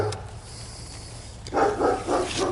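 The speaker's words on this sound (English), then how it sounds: "There's one of my dogs over there." A dog barks a few times from across a backyard, several rough woofs in a row, moderately distant and fairly clear against quiet outdoor background.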